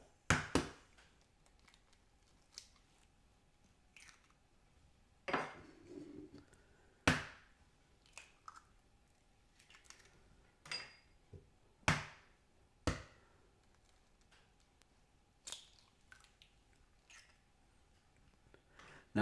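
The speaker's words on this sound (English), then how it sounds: "So we're just going to mix the egg and the cheese together." Eggs and a quarter cup of grated Parmesan worked together in a bowl for a keto pizza crust, heard as scattered sharp taps and scrapes of a utensil against the bowl, close and fairly quiet, coming in irregular bursts with pauses between them.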